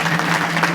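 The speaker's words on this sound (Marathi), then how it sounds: "या लेकरांकरता एकदा जोरदार टाळ्या वाजवा." An audience at a kirtan gathering in Sangamner claps in a steady, dense burst of applause, close and fairly loud, brief and without talk.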